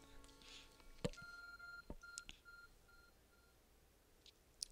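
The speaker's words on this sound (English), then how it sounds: "Your arc phone is beeping." The Arc Phone in the video game Pokémon Legends: Arceus gives quiet electronic beeps, with short repeated tones and a few sharp clicks against a low, faint game background.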